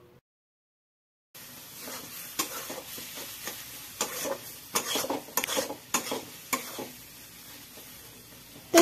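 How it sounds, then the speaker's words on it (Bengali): Cabbage stir-fries in mustard oil after a brief silence: a soft, close sizzle with irregular scraping and tossing strokes against the pan, growing busier toward the end, with no voices. "জল শুকিয়ে গেলে ভালো করে বাঁধাকপিটাকে অনেকক্ষণ ধরে কষিয়ে নিয়ে আমি এতে একটু সর্ষের তেল দিয়ে দিলাম।"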